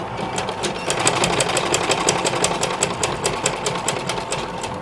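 A sewing machine stitching a tunic pocket, its needle hammering in a fast, even run of close, loud clicks that hold steady throughout.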